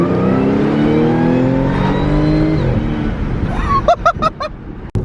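An Audi S4 with a modified exhaust, heard from inside as the engine drones and climbs in pitch, then eases off. A few sharp chirps follow near the end.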